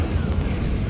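A short, loud, rumbling whoosh of flame bursts out as the Incendio fire spell is cast in Hogwarts Legacy, dense and low-heavy and lasting under a second.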